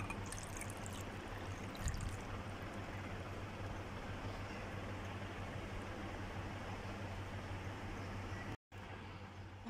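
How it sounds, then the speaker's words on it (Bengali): Liquid milk pouring onto mango in a container for a mango pancake batter, a faint, steady, unbroken stream of liquid noise that cuts off abruptly near the end. "আমটা দেওয়ার পর এখন দিয়ে দেবো লিকুইড দুধ নিয়েছি এখানে"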